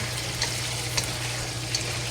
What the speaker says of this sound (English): Just slowly fry.